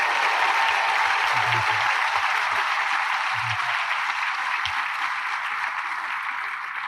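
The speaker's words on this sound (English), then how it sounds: "How about a round of applause for all of these folks?" Graduation audience at a community college commencement ceremony gives a sustained round of applause, a dense, even wash of many hands clapping that stays loud throughout and fades slightly toward the end.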